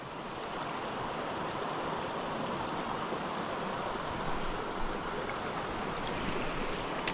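Fast-flowing, slightly murky trout river rushing past, a steady, dense broadband roar of moving water close by with no voices.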